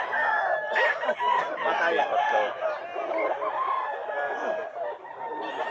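Gamefowl roosters and hens, bullstags among them, at a Bulacan pet market crow and cluck steadily close by while several people talk over the flock.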